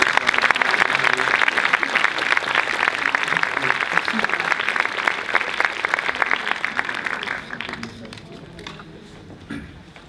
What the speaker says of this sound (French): encore des applaudissements pour...